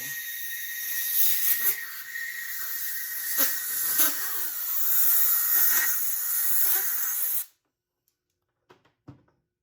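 Compressed air blasting debris out of the parts of a clogged Harbor Freight Portland pressure washer foam cannon, loud close hissing in several surging bursts for about seven seconds, then cutting off to near silence with a few faint clicks.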